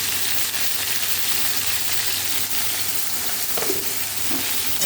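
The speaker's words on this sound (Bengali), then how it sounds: "দিয়ে এটা এবার নেড়ে আমি চাপা দিয়ে দিলাম" Ridge gourd curry with salt and turmeric sizzling loudly in a pan, a dense continuous frying hiss with faint stirring scrapes, close up and with no talk.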